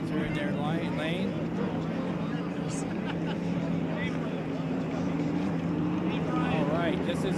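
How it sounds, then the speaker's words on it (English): Piston hydroplane racing boat with a 12-cylinder Allison Rolls-Royce engine on Lake Washington, a steady loud droning roar throughout with crowd hubbub and talk layered over it. "These piston boat goes by."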